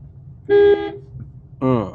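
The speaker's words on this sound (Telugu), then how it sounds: "horn horn horn" Two short, loud blasts of a car horn, the second following about a second after the first, close and clear.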